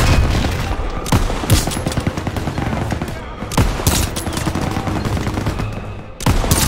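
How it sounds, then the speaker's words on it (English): MG42 machine gun fire in Call of Duty: WWII, loud sustained bursts of rapid automatic shots with heavy booming impacts mixed in, dense battlefield gunfire throughout with several sharp louder blasts. "Gunner, target that MG42 nest right side."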